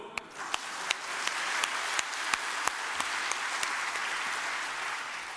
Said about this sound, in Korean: 1번 할렐루야 박수.